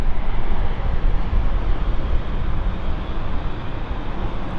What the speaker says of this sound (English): We're about to go very soon here for this Swiss A220.